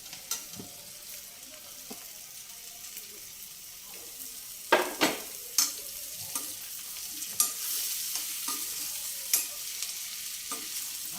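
Radish and bottle gourd pieces fry in a pan while being stirred. Faint steady sizzling runs under scattered spatula clicks and scrapes, with a few sharper knocks.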